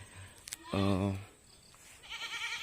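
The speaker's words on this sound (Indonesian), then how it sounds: "Saya juga tidak tahu ini kambing apa, sepertinya adalah kambing" A Javanese goat on a farm near a teak forest gives one clear, wavering bleat lasting about half a second, close by, with faint background noise and brief quieter sounds around it.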